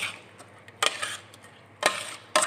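Spoon stirring a thick batter of glutinous rice with ginger for Puto Maya, a few short scraping strokes against the bowl separated by quiet pauses.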